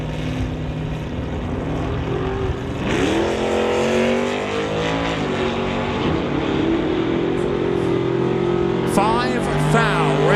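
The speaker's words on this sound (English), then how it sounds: "Nick Douglas brings up the SBB Racing Dodge Charger, dialed at a 1235 in the Lordco lane." Drag cars, a 1971 Dodge Dart and a Dodge Charger, launch at an NHRA Summit ET series race, engines revving up in rising howls over a constant track roar, with announcer commentary running underneath.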